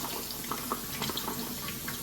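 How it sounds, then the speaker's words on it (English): Water from a kitchen faucet pours over carrots being rinsed in a sink, a steady near splatter broken by small uneven splashes as the carrots are handled. "Do some carrots, rinse these off really good."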